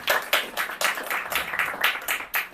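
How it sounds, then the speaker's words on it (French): An audience at a French comedy club stand-up show claps, quick bursts of applause rising and falling over a few seconds with no voices over it. "Applaudissez-vous, allez-y."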